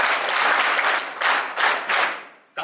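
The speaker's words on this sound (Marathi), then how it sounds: "टाळ्या वाजूयात आपण मगर सरांचा." A crowd at a farewell for a teacher gives a full round of applause, loud and dense, swelling in a few waves before dying away abruptly at the end.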